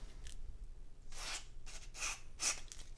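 Short hissing bursts of aerosol contact cleaner sprayed onto keyboard contacts of a TI-99/4A computer, several quick squirts close by with brief pauses between them.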